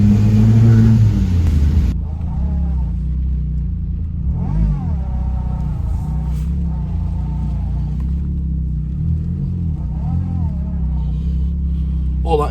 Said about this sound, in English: All that is wheel spin.